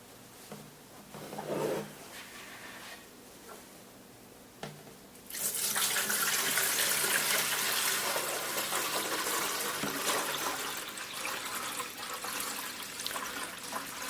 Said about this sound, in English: let me fill up the reservoir with water to show you how the humidifier works